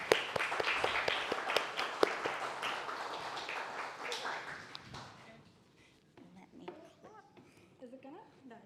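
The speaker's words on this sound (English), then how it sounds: "can I please get a huge round of applause for Marissa?" An audience at a Carclew open house event claps loudly, a dense burst of applause that fades after about five seconds, and then a person speaks over a quiet room.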